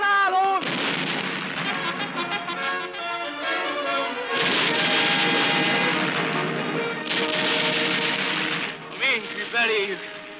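Artillery cannons fire in a 1953 Hungarian film about the 1848 revolution, with repeated heavy booming blasts and crashes that keep coming through the scene, mixed with shouting voices and a dense battle din.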